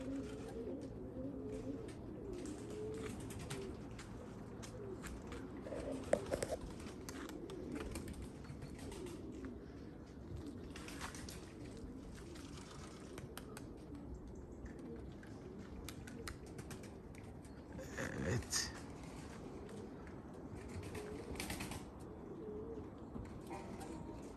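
Pigeons coo softly and continuously in a low murmur, with occasional wing flaps and rustles, moderately near, at an outdoor loft.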